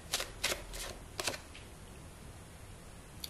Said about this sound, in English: Let's get the rest of the cards.